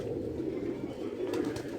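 A pigeon held in the hand coos softly and steadily at close range, a continuous low throaty burble with a few faint rustles toward the end.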